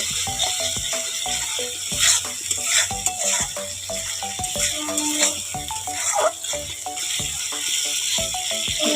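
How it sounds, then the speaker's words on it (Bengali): Ground spices fry in oil in a pan, a steady sizzle broken by repeated clicking and scraping of a spatula against metal. "দেখো মশলাটা ভেজে নিই, তারপরে জল দেব।"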